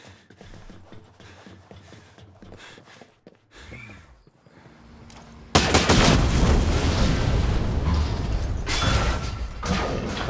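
Gunfire in the tactical shooter video game Breakpoint: a few sparse thuds and shots at first, then a sudden loud burst of continuous rapid firing that dominates the second half.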